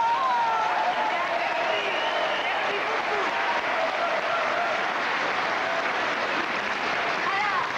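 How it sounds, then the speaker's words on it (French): Studio audience applause on a 1986 Quebec comedy television show, a steady, dense wash of clapping that holds at an even level throughout without a break. "alors on les applaudit."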